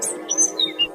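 Bright, high chirps from a large, colorful cartoon bird in a tree, a few short tweets over a soft steady background hum.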